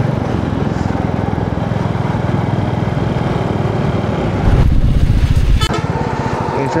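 A Royal Enfield Classic 350 motorcycle cruises along a narrow road to Bashkhali, its thumping single-cylinder engine loud and steady up close, with a brief rev surge and a short horn toot near the end.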